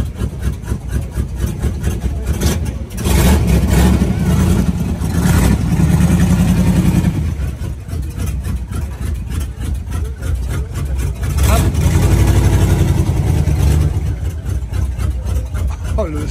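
A Renault Dauphine Gordini engine runs loud and close at a classic car gathering, with a steady throb that swells as it revs twice, while voices talk over it.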